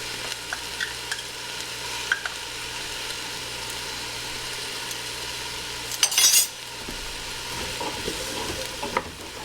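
Onions and vegetables sizzle steadily in a pan while a utensil stirs and scrapes, with a sharper clatter of stirring partway through, close and moderately loud, no talking.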